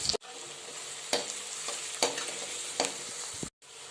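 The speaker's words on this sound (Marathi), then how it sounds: "इथं तीन चार हिरव्या मिरच्या आणि थोडा बारीक लसूण करून घेतला आहे पाच सहा पाकळ्या तो टाकते आता हे आपण छान लालसर जास्त लाल नाही करायचं पण छान परतून घेऊया" Green chilies, minced garlic and onion sauté in a hot pan, a steady close sizzle broken by several scraping stirs at regular intervals, with a brief drop to near silence before the frying resumes.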